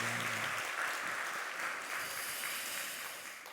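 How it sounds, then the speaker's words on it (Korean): A church congregation applauds at a Sunday service: dense, steady clapping fills the room throughout, easing off slightly toward the end. "박수 쳐주는 건가요?"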